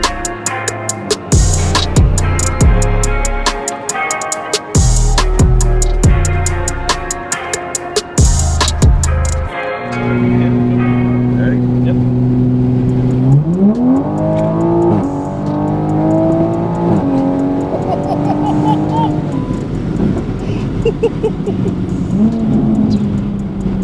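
A B58-engined Toyota Supra accelerates hard from inside the car, a loud, rising engine roar through several gear changes, with sharp breaks at shifts, then a rising turbo whine and steadier cruising drone.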